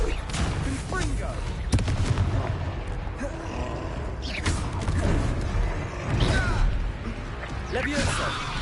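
Confringo fire spells blast repeatedly during a Hogwarts Legacy fight, sharp cracking impacts over a dense, loud battle din, with voices calling out between the hits.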